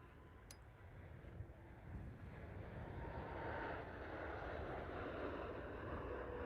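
A Ryanair Boeing 737 MAX 8200 arriving from Tenerife lands at Liverpool Airport, its engines producing a steady, broad roar heard from outside that slowly grows louder and fuller, with wind noise in the background.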